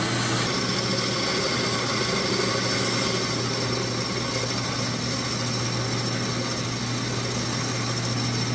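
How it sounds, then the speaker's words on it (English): A drill bores straight into wood with no pilot hole, a loud, dense, grinding mechanical whir that runs continuously throughout with a steady ratcheting rattle. "let's see if this thing will drill a hole without having to put a pilot in it first."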